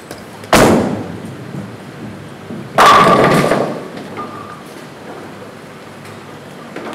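Global 900 Honey Badger Revival bowling ball thrown down a lane, two loud impacts: a sharp thud as it lands, then a crashing strike into pins that rings and fades.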